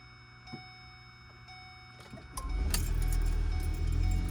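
A 2009 Ford Escape Hybrid with a no-start and stalling fault: keys jingle and click in the ignition, then the engine catches and settles into a steady low rumble held above idle, close and continuous.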